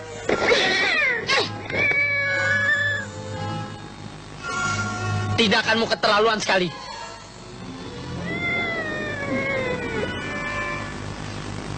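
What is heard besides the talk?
cat meowing while being hit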